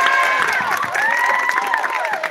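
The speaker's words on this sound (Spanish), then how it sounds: "Un aplauso a la mochila 10." Brief burst of children cheering and clapping for a team at a school elimination event, a short lively crowd swell with shouts over the applause.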